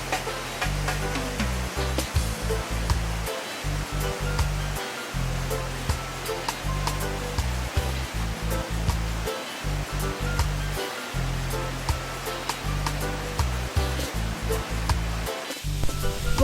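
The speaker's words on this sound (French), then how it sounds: "L'eau qui a servi à faire marcher le moulin repart dans le ruisseau," Stream water rushes steadily from the outflow of a water mill in Viviez, a loud continuous wash with a broad surging roar that stays close throughout, with no voices.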